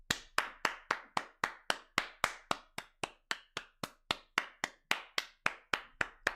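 Steady, evenly spaced golf claps, about three per second, crisp and fairly close, continuing alone without any talk.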